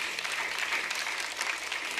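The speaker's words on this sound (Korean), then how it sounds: "하나님께 감사의 박수 올려드려요" A church congregation claps during a Sunday service in steady, dense applause that fills the whole moment, even and sustained without pause.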